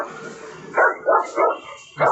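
Recorded dog barks play from a megaphone's built-in animal sound bank: four loud, close, electronic-sounding barks in a quick uneven run, with no talk.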